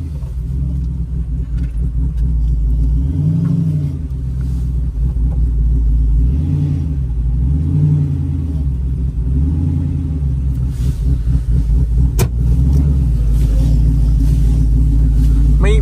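A tuned Jeep engine on a street test drive, a loud steady low rumble with a few rising and falling rev swells, and a voice speaking over it.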